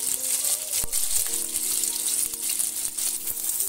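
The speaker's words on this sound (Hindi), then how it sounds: "तो प्याज को अच्छे से भून लेंगे सभी बरी और मिर्च के साथ।" Chopped onions, bari and green chillies frying in hot oil on a high gas flame, a steady loud sizzle with an occasional stir or clink of a spoon and no talking.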